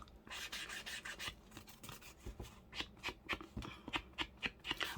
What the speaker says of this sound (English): I'm just going to go around with the walnut stain.